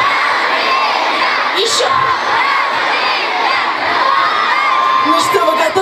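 A large outdoor crowd at a City Day concert shouts a birthday greeting in unison, a loud, sustained roar of voices with whoops and children's cries, while one voice calls out over the crowd.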